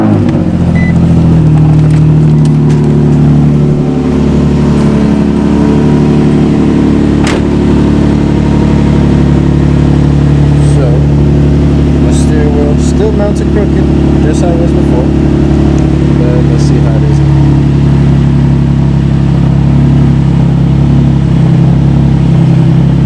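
Steady, loud engine drone of an Infiniti G35 driving on a test drive after an inner tie rod install, a constant low hum with someone talking over it throughout.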